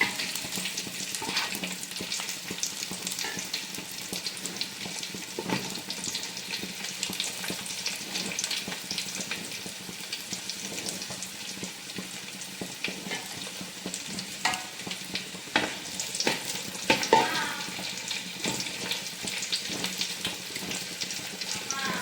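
Raisins fry in hot oil for biryani with a steady, close sizzle, broken by occasional scrapes and clinks of stirring.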